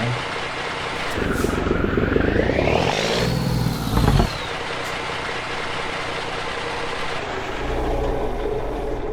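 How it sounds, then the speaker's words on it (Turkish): A BMC Fatih truck engine in the Euro Truck Simulator 2 game, using a DAF-derived engine sound, idles with a low rumble and then revs up and back down in a rising and falling whine before settling to a steady idle. "Evet motor sesi mükemmel. Yani DAF'tan alınmış ama harika bir motor sesi var."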